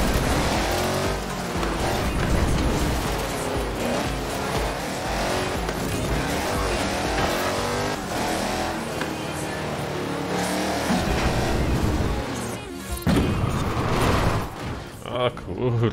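An Audi Quattro racing in the video game Forza Horizon 4, its engine roaring loud and steady with shifting pitch and tire noise, a voice talking over it.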